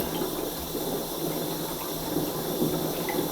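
A bath fills with running water, a steady close gushing and splashing rush that continues evenly without a break and with no voices.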